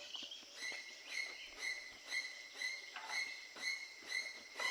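Birds call in open countryside farmland, a faint, distant series of short chirps repeating about twice a second over a soft airy hiss, with no voices.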